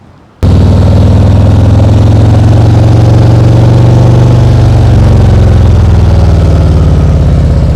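A motorcycle in first gear approaching a U-turn kicks in abruptly and holds a loud, steady, close-up engine drone with a throbbing low rumble and no voices over it.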